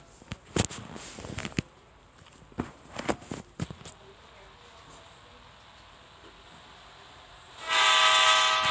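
A train horn in the Indian Bike Driving 3D mobile game blares loud and sustained near the end, after scattered clicks and thumps of gameplay.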